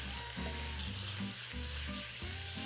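Pork sizzles loudly as it is stir-fried in a pan for Hakka-style stir-fried pork, with continuous frying hiss and periodic scraping from the stirring, close and without voices.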